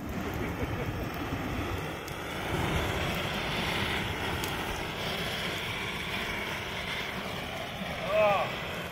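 An XM42-M flamethrower burning diesel gives a continuous, broad roaring rush that stays fairly even throughout, with a few faint background sounds and a brief swell near the end.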